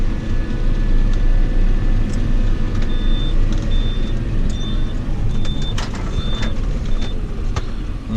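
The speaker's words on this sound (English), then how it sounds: "I'll let this car on by before I pull in." A car rolls past on a rural road beside a farm field where slurry is being spread, heard over a loud, steady tractor engine rumble, with faint intermittent high beeps in the background.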